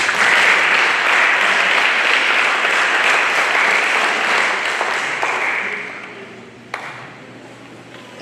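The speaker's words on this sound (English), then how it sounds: "So let's give them a round of applause." An audience at a school spelling bee competition applauds steadily for several seconds, a broad wash of clapping that gradually fades out, ending with a single sharp tap.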